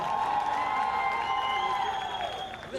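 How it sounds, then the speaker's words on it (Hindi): Crowd applause and cheering at a launch event for a new Life OK TV serial on Mahakumbh, a loud, steady wash of clapping and shouting with no break through the clip. "एक और बार जोरदार तालियां, come on everyone!"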